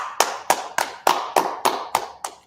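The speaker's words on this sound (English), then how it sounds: "Let's clap it up." Eight sharp, evenly spaced hand claps ring out at a steady rhythm, loud and close, each with a short ringing tail and no voices between them.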